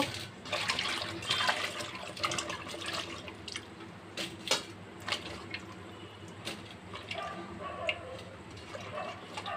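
Cut pointed gourds and green chilies are washed by hand in a bowl of water, with soft splashing, sloshing and dripping sounds continuing irregularly at close range.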